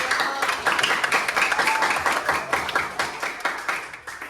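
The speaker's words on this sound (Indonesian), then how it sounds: "Tepuk tangan untuk kelompok 3." Classroom applause for a student group, a lively, fairly close round of clapping from a room of pupils, with quick uneven claps running steadily throughout.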